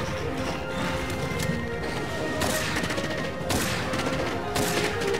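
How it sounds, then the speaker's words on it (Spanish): Rapid bursts of gunfire from a monster in Monster Hunter World, several loud volleys of shots cracking in quick succession amid game noise and music. "Fíjense todos los disparos que tiene."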